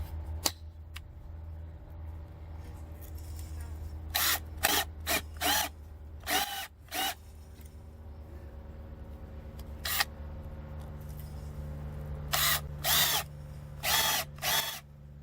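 Power drill tightening an Apple Drains pipe connection, with a low steady hum underneath; short bursts of drilling come in clusters, one near the start, several in quick succession midway, and a final group near the end.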